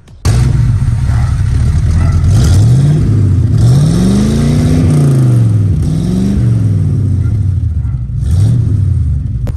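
A car exhaust with a Rush muffler revs repeatedly, the engine pitch rising and falling in several swells over a loud, rumbling idle close by.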